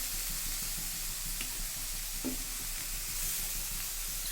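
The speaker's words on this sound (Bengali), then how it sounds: "শুকনো লঙ্কা ভাজা হওয়ার পরে আমি এই পাঁচফোড়ন ছেড়ে দিলাম" Dry red chilli frying in hot oil for a lentil dal, a steady close hiss of sizzling with a few faint clinks of a utensil against the pan.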